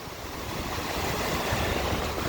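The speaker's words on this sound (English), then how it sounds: "there's some pretty good waves. Pretty good waves. 10-12 footers." Large 10 to 12 foot waves breaking on a Lake Michigan beach at Portage, Indiana, a dense, continuous wash of surf with some wind noise, loud and steady throughout the short stretch.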